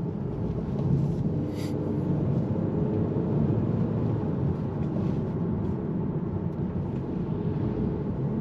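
A 2022 Honda HR-V Sport AWD compact SUV accelerating, heard from inside as a steady low engine and road rumble that holds at a constant loud level with no talking.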